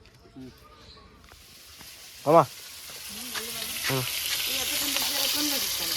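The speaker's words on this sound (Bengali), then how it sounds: "কি রান্না করছো এটা কি ইলিশ মাছের মাথা" Hilsa fish heads fry in a pan, a steady broadband sizzle that builds and fills the clip, with a few short voiced sounds and a brief louder clatter partway through.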